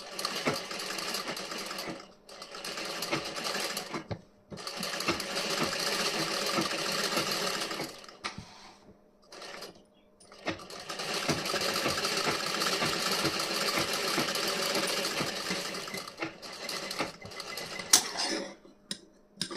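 A sewing machine stitches the front panel of a blouse, running in several steady bursts separated by short pauses, with a few clicks and a faint voice in the quieter moments.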